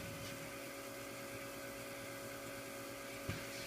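CD spindle corona motor spinning with aluminum plates rubbing the rotor: a faint, steady electrical hum with a high whine and soft scraping, plus a brief tick near the end.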